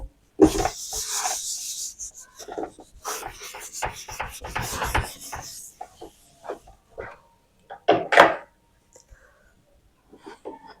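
Board eraser rubbing across a writing board during a maths lesson, a series of raspy scrubbing strokes, dense at first then in short separate swipes, close and fairly loud, with no talk.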